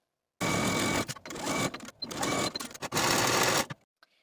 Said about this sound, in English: sew your side seams and shoulder seams